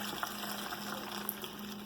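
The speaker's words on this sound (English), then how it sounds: "I'm gonna add broth or chicken water, whatever you want to call it" Broth poured into a blender while making mole sauce, a faint continuous watery gush and trickle with a low steady hum underneath, close and unbroken for the whole moment.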